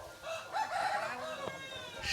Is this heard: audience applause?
no